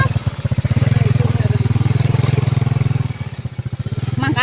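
A motorcycle engine running close by, a loud rapid chugging pulse that holds steady and then slows and turns rougher near the end.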